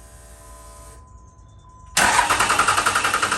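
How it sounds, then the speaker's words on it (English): A truck engine cranks and catches at about two seconds, then runs steadily with a rough rhythmic pulse, close and fairly loud after a quieter stretch with a faint tone. "We'll run the truck, take it for a little drive."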